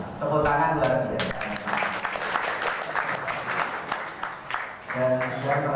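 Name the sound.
audience applause at an evening religious event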